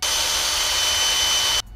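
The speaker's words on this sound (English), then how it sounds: "So small drill bit first" A power drill with a small bit bores upright into a wall while building a floating shelf, a loud steady high whine that stops abruptly near the end.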